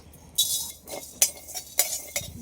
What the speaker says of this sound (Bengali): এবার খালি কড়াইয়ের মধ্যে মশলা ভেজে নেব, জিরে আর গোলমরিচ।